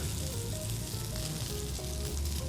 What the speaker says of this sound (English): I'm gonna sear it